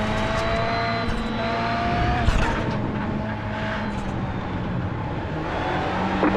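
Engine of an iRacing rallycross race car at Charlotte, a steady loud drone with shifting pitch as cars run close together and pass, holding level throughout with no talk.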